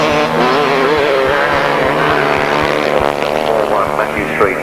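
Race cars at a 1993 grass track meeting, including a 250 car, roar flat out past at close range, a loud continuous engine drone with rising and falling pitch, under a commentator talking throughout.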